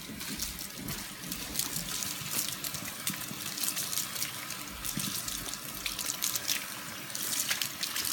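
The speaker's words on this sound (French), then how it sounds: "Pour le temps de pause s'écouler, vous voyez, hop, on va rincer tout ça." Water from a salon rinsing hose running steadily over freshly dyed hair at a sink, a soft continuous splashing and trickling without talk.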